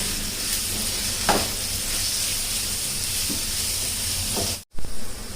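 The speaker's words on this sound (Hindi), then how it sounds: "अब इसे डालकर भी हम थोड़ा सा इसे ऐसे भून लेंगे 1 मिनट के लिए" Melon seeds and cashew pieces fry in a pan with a continuous close hiss and sizzle and a few faint stirring clicks, broken by a brief cutout near the end.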